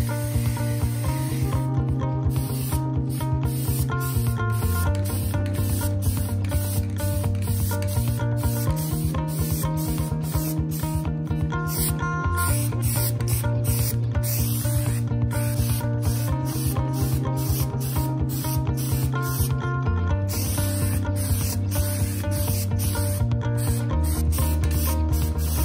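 Shellac-based white primer sprayed onto a cane coffee table during a furniture makeover: a continuous close, loud aerosol hiss held throughout, with steady musical tones running underneath and no speech.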